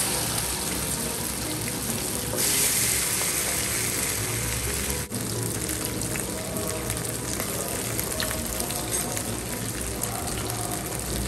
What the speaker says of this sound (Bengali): তার আগে হানি চিকেনটা যেটা রান্না করব, চিকেনটা আমার একটু ভেজে নিতে হবে, সেজন্য এই প্যানেতে একটু ভেজে নিচ্ছি।